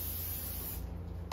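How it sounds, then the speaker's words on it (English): WD-40 sprayed from a can onto a bonsai pot during cleaning: one short, sharp hiss of spray near the end, after a quiet low hum. "I use WD-40 and an old rag, and I just spray it on here like this."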